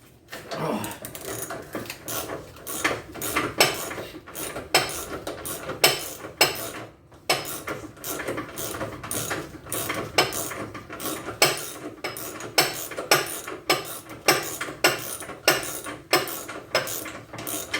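Metallic ratcheting and clinking while exhaust bolts are undone on a Dodge Viper, repeated bursts of tool clicks in a steady rhythm, close and fairly loud, with no talking.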